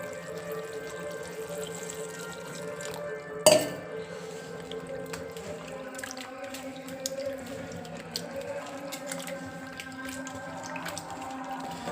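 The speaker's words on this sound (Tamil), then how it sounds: "தண்ணி விட்டு கலக்கிட வேண்டியதான்." Water is poured into a spice mix of salt, chilli, fenugreek, cumin and coriander powder for a Kanyakumari-style fish curry, then stirred, giving a quiet liquid trickle and soft scraping with one sharp clink of a utensil against the pot.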